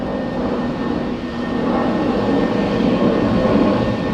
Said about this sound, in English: And now there's all these planes flying over and noises